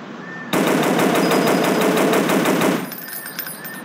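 Rapid automatic gunfire from a mobile dinosaur-hunting game, one loud sustained burst of about two seconds with evenly spaced shots, then fading into quieter game sounds.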